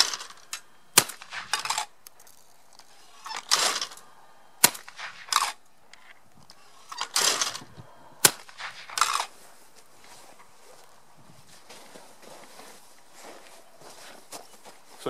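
Shotgun firing 1 ounce shells at clay targets, a string of sharp single reports spaced a second or two apart, fairly distant and crisp, with softer rustling and shuffling between shots before the firing stops.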